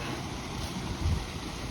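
Steady broadband rushing of falling water at Buckingham waterfall, where water spills down from a higher level, continuous and fairly loud, with wind buffeting the microphone, in an autumn forest.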